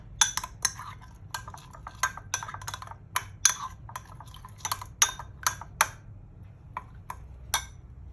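Banana blossom and durian som tam is stirred with a spoon, giving a rhythmic series of sharp clinks and taps against the bowl, close and distinct over a quiet background, thinning out toward the end.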